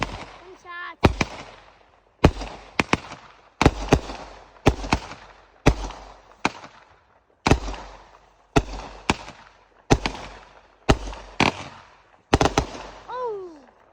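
Fourth of July fireworks burst outdoors in a long run of about a dozen sharp, loud booms with brief rumbling tails, some doubled, plus whistling rising shells at the start and end.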